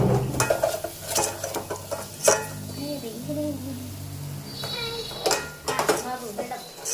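Egg biryani ingredients fry in a pan with biryani masala powder while a utensil stirs and scrapes, bringing soft sizzling, metallic clatter and knocks against the pan, with voices talking over it.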